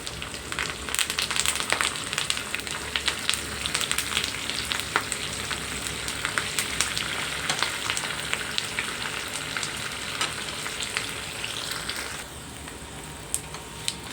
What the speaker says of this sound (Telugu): తాలింపు అయితే బాగా వేగిందండి